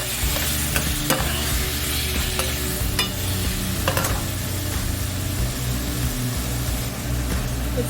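Shrimp stir-frying in a pan with fish sauce, soy sauce and oyster sauce for lo mein, a loud constant sizzle with repeated scraping and clanking of a utensil, set over a low rumbling burner hum.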